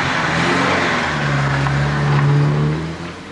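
Car driving off, a loud close engine drone with a rising rumble that swells and then fades away.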